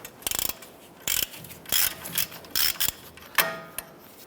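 A ratchet fitted with a 21mm socket loosens a nut on the front suspension of a 2011-2018 Ram 1500, giving several short bursts of rapid clicking separated by brief pauses, close up.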